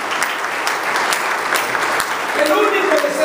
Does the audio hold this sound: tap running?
no